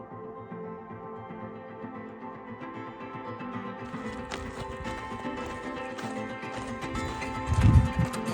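Horses beside a road on a high mountain trail, hooves clip-clopping at a steady walk under a constant low rumble, with a heavier thump or snort near the end.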